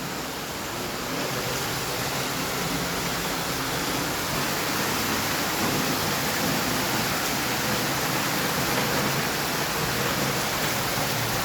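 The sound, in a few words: heavy rain outside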